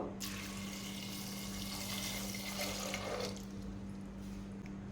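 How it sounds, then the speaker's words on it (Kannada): Water poured into a pressure cooker over rajma with whole spices and green chillies, a steady close rushing stream that tapers off near the end over a low constant hum. "ಈಗ ಅದಕ್ಕೆ ಸ್ವಲ್ಪ ನೀರನ್ನು ಹಾಕಿ 6 ವಿಸಿಲ್ ತೆಗಿಬೇಕು."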